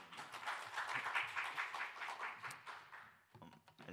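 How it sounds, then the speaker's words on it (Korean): A church congregation applauding during a Sunday worship service, a brief, moderately quiet round of rhythmic clapping that thins out toward the end. "편하게 박수 한번 해주시죠"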